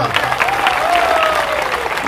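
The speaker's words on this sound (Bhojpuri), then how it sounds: "जोरदार ताली" An audience at a village stage show of devotional singing claps loudly in a dense, continuous burst of applause, with crowd noise and a faint tone ringing underneath.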